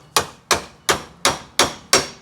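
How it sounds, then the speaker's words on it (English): A hammer taps a pin back into a KTuned shifter on an Acura Integra / 99-00 Civic Si, six sharp, evenly spaced metallic strikes, close and loud, with no talk. "take our hammer and bump it back in."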